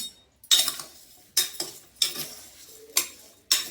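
A spoon stirs spices and red chili powder in a metal pan, giving five sharp scraping clinks spaced about half a second to a second apart, close and clear with no voices.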